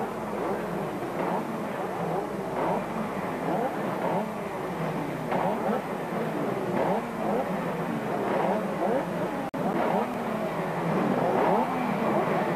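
Engines of sidecar racing outfits idle and rev on the starting grid at the 1997 Swedish Sidecar Grand Prix at Anderstorp, a steady loud drone with repeated revving surges and a commentator talking over it.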